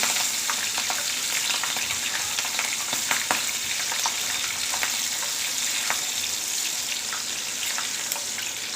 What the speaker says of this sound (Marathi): आता हे मिरच्या तळत आलेल्या आहेत